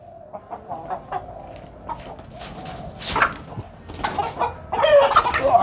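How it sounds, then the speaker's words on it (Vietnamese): Chickens cluck close by, a rooster among the hens, in a run of short, repeated clucks that turn into louder, more excited calls toward the end, with no talking. "đây là bạn gà trống"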